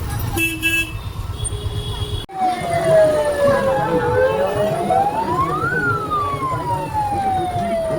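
After a brief burst of crowd noise at a crowded Rath fair, a loud wailing police car siren rises and falls close by, sweeping down, up, then down again over street bustle.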